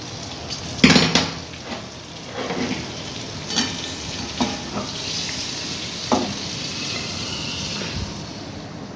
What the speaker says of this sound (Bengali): দেখো প্রেসারের মধ্যে ঢেলে দিয়েছি